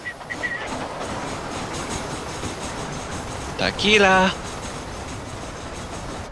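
A train in Red Dead Redemption rolls steadily along the rails, a continuous loud rumbling drone that runs throughout, while a voice briefly shouts over it near the middle.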